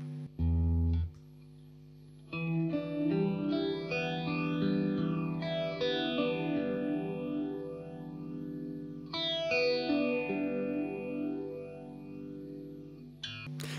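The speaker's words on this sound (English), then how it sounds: "this also has the resonance control. And the resonance control basically adds, feeds back part of the signal into itself, and it creates a much more interesting and distinctive phaser sound" A guitar runs through a phaser pedal with its resonance control turned up, giving sustained chords a sweeping, whooshing, feedback-rich tone. Notes ring out with repeated slow sweeps and there is no talking.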